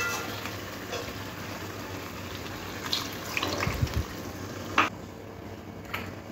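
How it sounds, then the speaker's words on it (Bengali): Water pours into a cooking pot of Bengali chicken curry with potatoes, a soft continuous splashing trickle with a few faint clinks, quiet and close. "এরপরে চিকেনের মধ্যে আমি একটু জল দিয়ে দেব"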